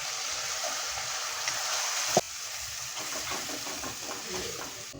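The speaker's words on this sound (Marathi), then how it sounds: "पेस्ट आपल्याला छान अशी व्यवस्थित ढवळून घ्यायची आहे." Ground masala paste being stirred into a sprouted moong curry in a pot: a soft, steady sizzle and faint scraping stir, with one sharp clink of the spoon against the pot.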